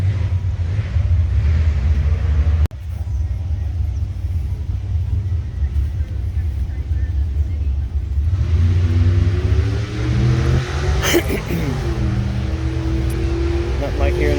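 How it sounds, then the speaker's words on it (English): Old Chevy Tri-Five car at a car show, its engine idling with a deep, steady rumble, then revving up and dropping back, with people talking nearby. "Nothing like hearing them old motors run."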